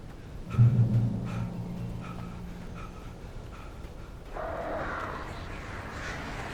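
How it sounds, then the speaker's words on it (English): Crows caw in a few short harsh bursts early on, fairly close, in the dark atmospheric world of Alan Wake Remastered on PS5, before fading into a low ambient hush. "Birds."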